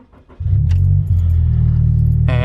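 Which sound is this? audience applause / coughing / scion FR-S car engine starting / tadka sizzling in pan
scion FR-S car engine starting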